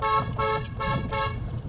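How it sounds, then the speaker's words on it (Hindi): A car horn honks in three short beeps spaced evenly, fairly close, while driving uphill and turning, with low road rumble underneath. "याद रखिए, हॉर्न दे दीजिए ज़रूर।"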